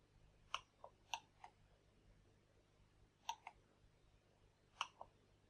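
Pen buttons on a Wacom Intuos tablet clicked several times, sharp, close, isolated clicks in small pairs spaced across a quiet room.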